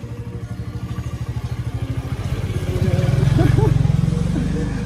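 A scooter or motorbike engine revs and rattles with a pulsing mid-pitched rhythm as it rolls down a very steep slope, growing louder and steadier toward the end, with people talking over it.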